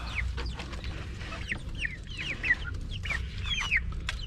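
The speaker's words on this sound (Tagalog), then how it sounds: "Ayan yung mga manok ko na ano, lumalaki na talaga." Several chickens cluck and chirp steadily over a low background rumble, with no voices.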